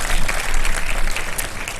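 Studio audience applauding on a Ramadan iftar game show, steady dense clapping filling the room at close range without a pause.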